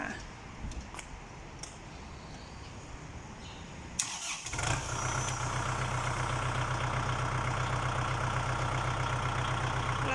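A 2019 vehicle with hydraulics starts up partway through and then settles into a steady, loud engine drone. Quiet knocks and handling noises come before it starts.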